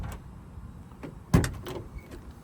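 Door of a restored 1952 Ford F-1 pickup fitted with bear claw latches, opened or shut once with a sharp, close metallic clunk over quiet background handling noise.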